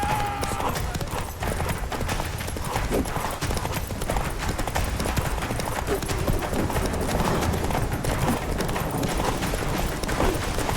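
Roach, the horse in The Witcher 3, gallops in fast, steady hoofbeats beneath a dense wash of game sound and action noise that continues without a break.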